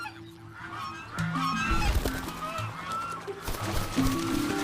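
Several lionhead geese honk loudly and repeatedly, overlapping calls close by against a noisy outdoor background.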